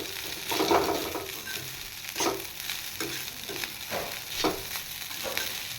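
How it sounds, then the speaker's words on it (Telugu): Paneer egg fried rice stirred in a hot pan, with rhythmic scraping and tossing strokes over a steady frying sizzle, loud and close, no talking. "రైస్ వేసి బాగా కలుపుకున్నాము."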